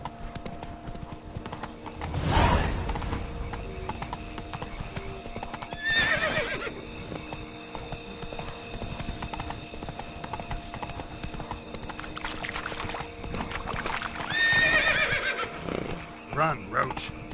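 Geralt's horse Roach in The Witcher 3 video game, with repeated hoof clip-clop and two distinct neighs, one early and a louder whinny near the end, over a steady game ambience while someone talks.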